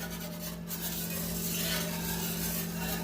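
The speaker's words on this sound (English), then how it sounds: "we're gonna whisk constantly until it's thickened" A whisk scrapes and rubs steadily in a pan as wine is stirred into a thickening sauce for creamy chicken and gnocchi, making a soft continuous rasping with faint sizzle and no talking.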